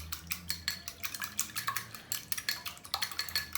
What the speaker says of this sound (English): Now just whisk it. You can whisk it with a fork.